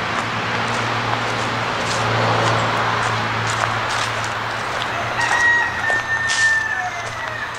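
Chickens cluck steadily outdoors along a hiking trail near a goat pen while a rooster crows clearly toward the end, with a low steady hum underneath and no one speaking.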